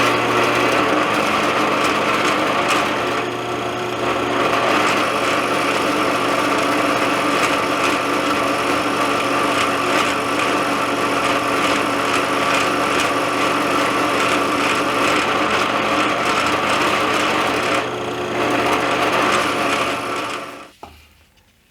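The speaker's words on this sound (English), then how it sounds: "I'm just going to drill pilot holes in the centers." A power drill boring pilot holes into the centres of a wooden picture frame jig, a steady loud high-pitched motor whine running continuously for about twenty seconds before winding down, with no talking.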